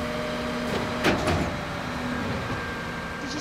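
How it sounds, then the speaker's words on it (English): A bin lorry collecting rubbish in a city street gives a heavy engine rumble with a mechanical whine, and a louder clatter and thud breaks in briefly as the claw and bin mechanism work. "These bin lorries certainly are noisy, aren't they?"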